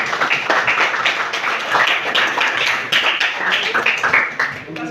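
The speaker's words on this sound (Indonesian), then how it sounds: "Tepuk tangan dulu dong." A class at a microteaching session claps for a student group, uneven bursts of hand clapping from a modest number of people, fairly close, with some rhythmic surges and a hint of voices mixed in.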